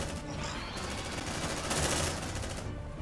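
Suppressive machine gun fire in the sci-fi video game Aliens: Dark Descent, a dense sustained burst of rapid automatic shots that swells to a loud peak before cutting back, with no voices over it.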